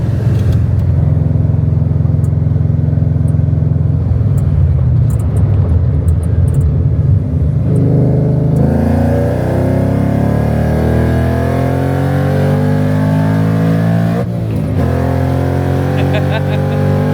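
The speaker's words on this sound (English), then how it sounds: "You give it a little bit more than half throttle, it goes into boost." A 700 hp Ford Mustang with a TVS supercharger roars as it accelerates into boost, its loud, deep engine rising in pitch from inside the car, with people talking over it.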